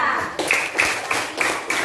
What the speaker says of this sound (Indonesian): beri dulu tepuk tangan untuk kelompok 2